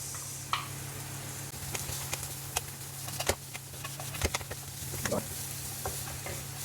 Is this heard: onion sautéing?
yes